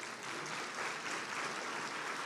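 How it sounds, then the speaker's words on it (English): Audience at a Hearts and Heroes 2025 event applauds, a steady dense clapping sustained evenly through the short stretch with no speech over it. "let's give them all a round of applause."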